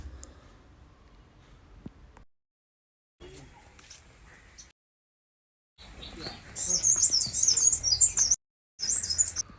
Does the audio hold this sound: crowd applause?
no